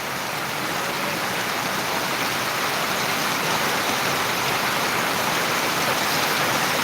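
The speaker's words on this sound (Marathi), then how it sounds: "बुलढाणा मेकरमध्ये जबरदस्त पाऊस सुरू आहे" Heavy monsoon rain pours down in Buldhana, Maharashtra, in a dense, unbroken hiss, loud and constant throughout.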